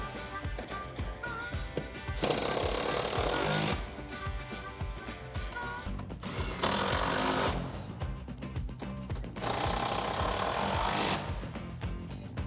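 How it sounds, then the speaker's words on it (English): Impact wrench tightening seat bracket bolts on a Jeep Wrangler: three rattling hammering bursts of one to two seconds each, separated by quieter gaps with tool and workshop noise, up close. "let's tighten these up with our impact."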